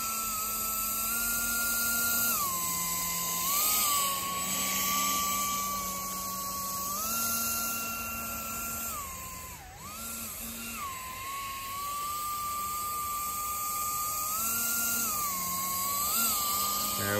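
The engine of a Palaform X500 hovercraft kit runs continuously under throttle, a steady high whine whose pitch rises and falls as the throttle changes, heard alone without talk.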